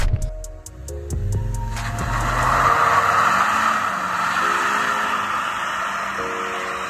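A Mitsubishi Evo X, one that has had an engine fire, drives along with a steady, loud engine drone and low throbbing. A few sharp clicks are heard near the start.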